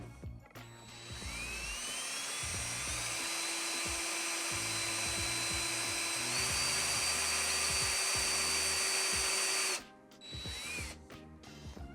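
A power drill whines steadily at high speed for several seconds, pre-drilling holes in wood, its pitch rising slightly, then cuts out, followed by a short second burst.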